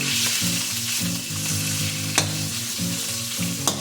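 Ground meat sautés in hot oil in a wok, browning as an early step for a Filipino sopas cooked outdoors; a steady loud sizzle with occasional sharp clinks of a utensil stirring, no talking.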